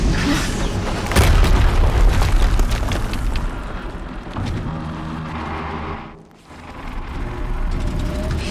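A deep booming explosion rumbles through a Horizon Zero Dawn battle, loud and sustained with heavy low-end roar, briefly dropping away before the game's noise swells again.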